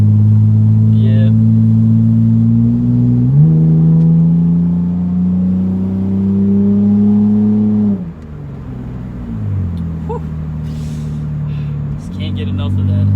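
A 2003 Mitsubishi Eclipse engine revs up and down in several long, loud pulls, the pitch climbing and dropping between throttle blips, heard up close.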